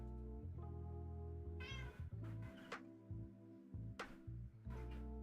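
A pet cat meows several times after waking, short high calls standing out clearly over steady background music.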